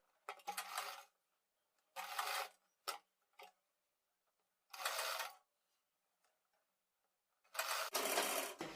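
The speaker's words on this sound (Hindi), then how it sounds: "ये हम पाइपिंग के बराबर में यहाँ सिलाई लगाएंगे" A sewing machine stitches along fabric piping on a sleeve in short separate bursts of rapid mechanical chatter, each a second or less, with silent pauses between them and a longer run near the end.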